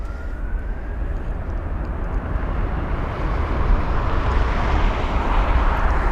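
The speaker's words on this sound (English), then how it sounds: "the next arrival is in sight. It's going to be flight number EI168 on board the Aer Lingus A320 neo from Dublin" An Aer Lingus Airbus A320neo arriving from Dublin at London Heathrow rumbles in with a broad, steady jet roar. A faint rising whine sits above it, and the roar grows slightly louder as it approaches.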